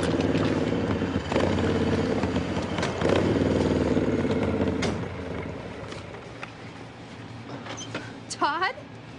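A motorcycle rides up, its engine humming steadily and fairly close before easing off and fading, with a short voice near the end.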